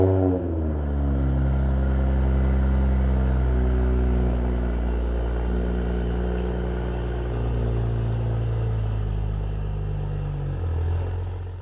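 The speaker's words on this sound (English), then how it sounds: "this car is loud" A widebody Toyota MK5 Supra with a 4-inch HKS downpipe and exhaust roars loud and close, a deep steady revving drone that rises at the start and holds, then eases near the end.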